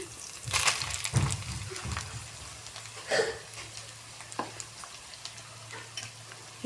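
Ginger-garlic paste fries in a pan for spicy karam rice. A close, moderate sizzle runs under intermittent scraping strokes of a stirring spoon, with a few sharper clinks and no talk.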